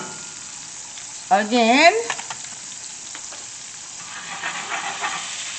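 Butter melting and sizzling in a cast iron skillet, a soft steady frying hiss close by, broken by a brief voice and a few faint clinks.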